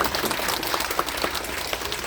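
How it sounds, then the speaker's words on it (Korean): An audience at a Seoul office workers' seminar gives a brief round of applause, a dense patter of many hands clapping evenly for about two seconds. "서로 응원의 박수 한번"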